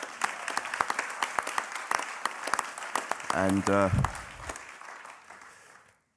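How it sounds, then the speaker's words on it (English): Audience applause rings out for City Roads at a prison workshop share, dense clapping throughout with a brief spoken word near the middle, then fading out at the end. "I would like to everyone for a round of applause for City Roads,"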